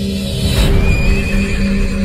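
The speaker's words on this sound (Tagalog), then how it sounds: "isang pagsinghal ng kabayo." A horse snorts and whinnies close by, a loud sharp burst over a steady low rumbling background with a thin whistling tone drifting through.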